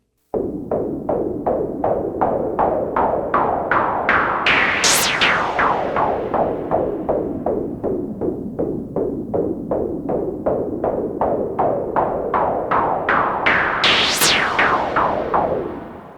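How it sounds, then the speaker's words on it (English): Noise from a Moog Mother synthesizer with the mix turned fully to noise, rhythmically pulsed by filter modulation into a steady train of evenly spaced swooshing throbs, with two rising resonant sweeps, loud and alone. "I've got the mix all the way up to noise. And this is creating some cool noisy textures."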